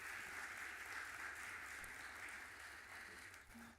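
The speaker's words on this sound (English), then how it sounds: "Can we give a round of applause to all of our community speakers tonight?" Audience applause for community speakers at an evening civic event in Cleveland, a steady wash of many hands clapping that holds loud for several seconds and tapers slightly near the end, with no talking over it.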